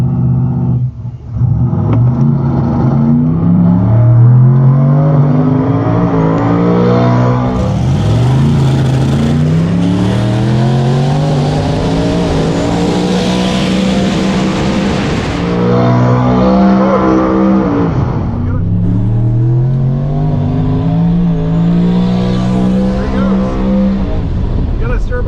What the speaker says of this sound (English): you can see the engine coming well out of the hood of this third generation Camaro